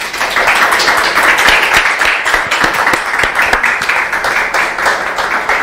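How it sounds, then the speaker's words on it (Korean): A seminar audience claps loudly and continuously, a dense, close roar of many hands with individual sharp claps standing out, sustained throughout without speech. "다시 한번 큰 박수 부탁드립니다"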